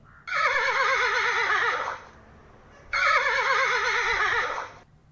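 A horse neighs twice, each a long shrill whinny with a quavering, wavering pitch lasting well over a second, separated by a short pause and heard close and alone.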